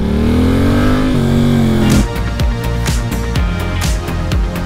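A motorcycle engine rises in pitch as it accelerates, then settles into a steady running drone with rhythmic pulses while moving.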